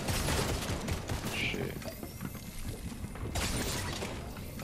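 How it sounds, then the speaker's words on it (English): Fortnite gunfire comes in dense, crackling volleys, heavy at the start and again near the end, with a quieter stretch in between. Voices can be heard under the shots. "I'm being shot from behind."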